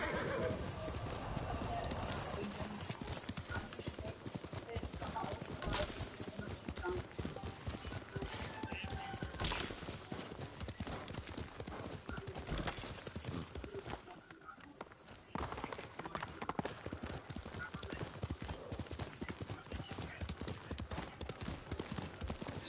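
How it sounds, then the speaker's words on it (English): Horse hooves clip-clop in a steady walking rhythm close by with a whinny among them. A person talks over the hoofbeats, and there is a short lull in the middle. "Good horse."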